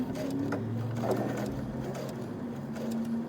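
Sewing machine running steadily forward after a short reverse stitch, a close continuous mechanical whir and hum with faint clicks and no talking.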